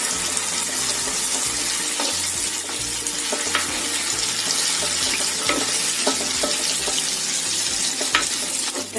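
Potato snacks fry in a pan, a continuous loud sizzle with occasional crackles and stirring scrapes, all close and steady with no talk.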